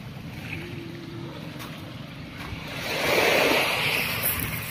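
Sea waves wash in at the shore of Labuan, Zamboanga City, a steady rushing surf that swells louder midway, with wind noise and no talking.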